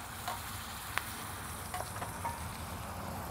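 Aged ribeye steak searing in a hot pan, a steady soft sizzle and frying hiss running throughout with a few small pops and crackles, no voices.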